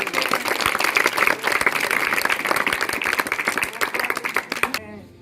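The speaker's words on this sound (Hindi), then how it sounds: "जोरदार तालियां माता जी" An audience at a school birthday celebration for a teacher breaks into loud, dense applause that holds steady for several seconds before cutting off abruptly near the end.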